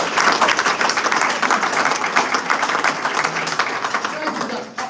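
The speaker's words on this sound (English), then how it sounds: "they just applauded you for being a woman" Crowd applause, a steady wash of many hands clapping that fills the room, fading slightly toward the end.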